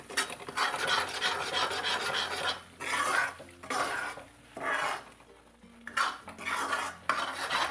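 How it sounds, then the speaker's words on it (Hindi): Gram flour being stirred and roasted in a pan over low-to-medium heat for suji halwa with desi ghee, a steady scraping and rasping of a spoon against the pan in repeated bursts with brief pauses, close and fairly loud. "अब हम इसे मिक्स करके अच्छे से भूनेंगे"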